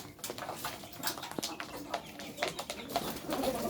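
Pigeons in their nesting boxes, with several pairs sitting on eggs, give soft cooing calls amid faint scattered chirps and rustling, fairly quiet and continuous throughout.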